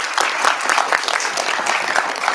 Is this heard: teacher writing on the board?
no